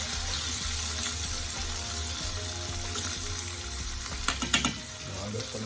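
Seasoning with peppers and onion fries in a pan for sweet and sour pork, giving a steady close sizzle with brief clinks and stirring scrapes in the middle.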